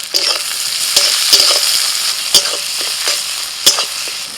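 Chopped tomato frying with onions in a pan, a loud close sizzle broken by repeated stirring scrapes and clinks of a spatula, with no voices.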